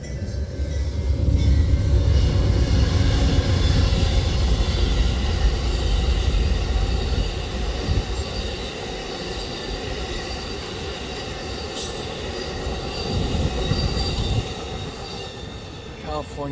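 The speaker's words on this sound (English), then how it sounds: "Here comes the California Zephyr heading east." The eastbound California Zephyr passenger train rolls past on the tracks, loud and rumbling at first, with wheel squeal and clatter, then easing off as the cars go by.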